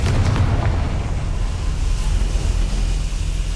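Confringo fire spell explosion in the Hogwarts Legacy video game, a loud continuous low rumbling boom with a sharp burst at the start that then sustains as a dense roar.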